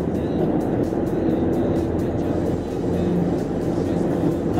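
A 2018 Jeep Compass Limited (O) 4x4 cruises at 120 in fourth gear, with a steady, loud engine drone and road rumble from inside the cabin throughout.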